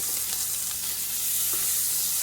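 Melted butter sizzles in a pan on a stove as the food is stirred, a steady bright crackling hiss with soft scraping strokes of the utensil, close and continuous with no voices.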